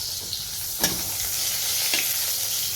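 Pointed gourd (potol) fries in a pan with a steady, close hiss of sizzling oil, broken by a couple of brief scraping stirs, with no voices.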